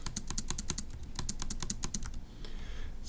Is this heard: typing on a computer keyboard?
yes